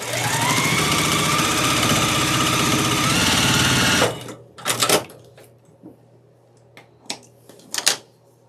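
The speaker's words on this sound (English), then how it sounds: "sew with a 1/4 inch seam allowance" A sewing machine stitches a quarter-inch seam on a traditional quilt block, running in a loud, steady, rapid whir for about four seconds before stopping, followed by scattered clicks and light handling knocks.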